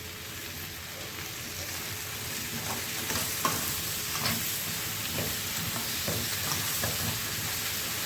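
Crushed garlic clove frying in a pan for a liver and gizzard tagine, a steady close sizzle with stirring scrapes and light crackles throughout.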